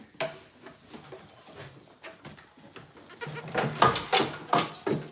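Bottle-fed baby goats bleat repeatedly at close range, a run of short, overlapping cries that grows louder and more frequent toward the end.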